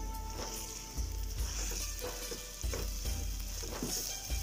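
Blended chicken sizzles steadily in a hot pan, with a continuous close frying hiss and occasional stirring scrapes and soft knocks, no voices.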